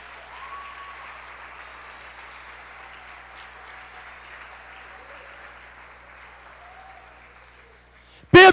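Church congregation applauding at a cell-group celebration, a steady even wash of many hands clapping that holds for about eight seconds before stopping abruptly.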